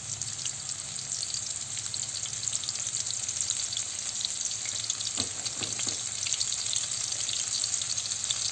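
Breaded chicken fillet frying in very hot oil, a dense continuous crackling sizzle throughout with a few brief clinks midway.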